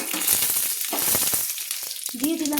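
Black cumin seeds and whole dried red chillies hit hot oil, giving a bright, close sizzle and crackle with scattered pops and stirring scrapes, steady throughout and loud against the quiet kitchen.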